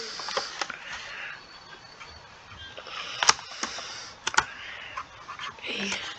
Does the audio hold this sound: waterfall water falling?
no